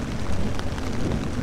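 Heavy, steady rain during a storm at a campsite in the Adirondacks, a dense continuous hiss with faint drop patter throughout and no voices.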